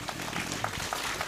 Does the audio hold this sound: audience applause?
yes